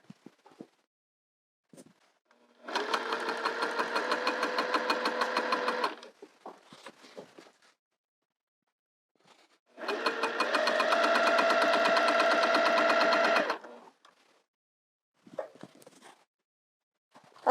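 Sewing machine stitching down an open seam on heavy flannel skirt fabric, two sustained runs of fast, even whirring with a pause between and light handling clicks around them.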